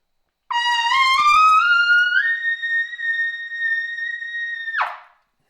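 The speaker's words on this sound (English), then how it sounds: "you can actually play high notes with it" A brass player blows high notes through a novelty high-register mouthpiece: a short rising run of bright tones, then one long sustained piercing note that ends abruptly, loud and alone.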